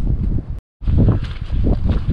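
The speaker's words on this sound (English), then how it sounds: "Really, really windy." Strong wind with near-horizontal rain buffets the microphone in loud, rough gusts on the hills of the Peak District, broken by a brief moment of near silence before the roar returns.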